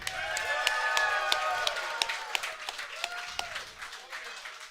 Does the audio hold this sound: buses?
no